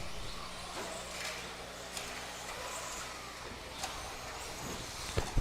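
Radio-controlled off-road race cars tear along the straightaway of an RC raceway, a steady buzzing motor drone with sharp clicks and knocks as they hit the track.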